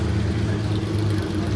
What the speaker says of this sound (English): we got an old Countach fired up